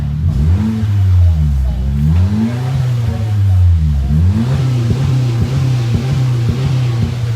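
A 1.5 or 1.8 RS car engine revs up and down in repeated throttle blips, loud and close, with a steady idle between bursts.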